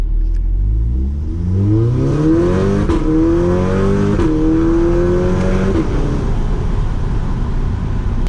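A loud Audi TT-S Quattro with a new downpipe exhaust revs hard, its engine note climbing in repeated pulls with brief breaks between them, heard close by and with no talking.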